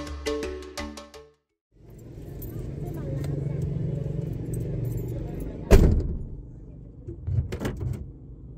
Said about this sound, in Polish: I to był dźwięk zamykanego zamka